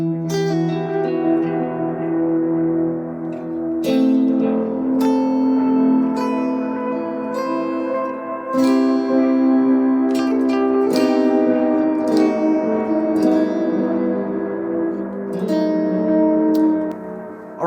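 Electric guitar riff played over a looper pedal loop, sustained chords with reverb and echo layered under sharp new picked phrases, steady and loud throughout with no talking.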